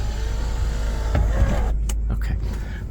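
A truck's rear sunroof motor runs inside the cab, giving a steady mechanical whir that swells into a brief whine near the middle, then cuts off into a few clicks and thumps against a constant low engine rumble.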